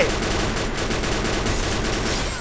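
Dense, continuous automatic gunfire from the Free Fire battle-royale video game, loud and sustained rapid shots filling the whole stretch without a break.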